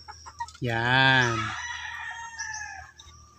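A gamecock crows once, close and loud, a long drawn-out cock-a-doodle-doo, with someone speaking faintly in the background.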